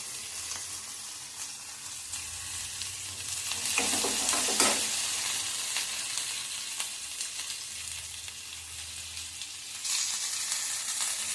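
Cinnamon and cloves sizzle in hot oil, a steady close frying hiss punctuated by scraping stirs, with a louder burst of crackling partway through and another flare near the end; no one speaks.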